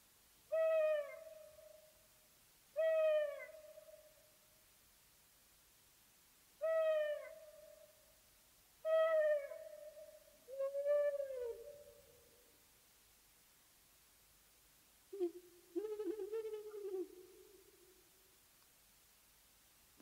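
An owl hoots six times over about twenty seconds, spaced steadily and heard alone against quiet. Each call is a clear, harmonic note, and the last is lower, longer and more wavering.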